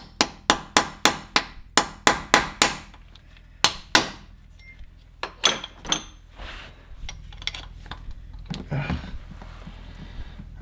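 A hammer strikes a punch to separate the filter housing on a Ferrari F430, a rapid run of sharp metallic blows followed by scattered, slower hits and some rattling handling noise.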